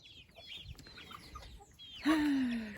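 A hen gives a loud, drawn-out cluck near the end, after a stretch of quieter farmyard background with faint bird calls.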